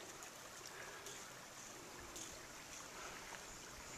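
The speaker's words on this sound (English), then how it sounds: "This is the Smith Fork Creek." Smith Fork Creek flowing near a camp: a faint, steady rush of moving water, continuous broadband noise with no voices, holding evenly throughout.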